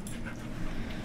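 A dog whimpers and pants indoors in a living room, a brief close huffing breath with faint whiny tones over a dense, noisy background.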